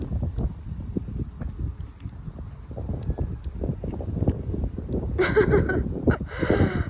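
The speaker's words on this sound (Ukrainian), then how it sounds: "Ой, такий вітер" Strong wind buffets the microphone in low, uneven gusts, with a brief rattling burst near the end.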